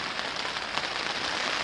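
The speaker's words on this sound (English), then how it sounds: "the rain hit us pretty good" Rain drumming hard and steadily on a tent during a solo June canoe trip in the Boundary Waters, a dense close patter with no talk.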